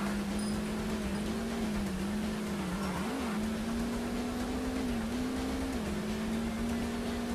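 A car engine drones steadily in the N64 rally game Top Gear Rally, its pitch rising and dipping slightly as the vehicle powers along, loud and continuous with no other sounds.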